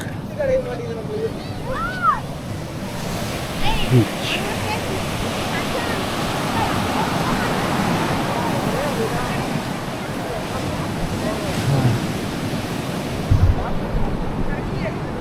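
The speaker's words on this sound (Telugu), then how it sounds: "బీచ్" Surf rolling onto a beach at Pondicherry, a steady broadband wash of breaking waves with some wind buffeting, continuous and fairly loud, with a few brief louder bumps and no clear talk.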